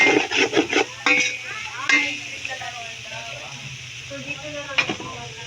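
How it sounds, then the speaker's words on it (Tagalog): Chicken soup with shredded chicken, meant for macaroni sopas, is stirred in a pot with scraping and clinking strokes over a steady hiss, while people talk nearby. "Haluin na natin."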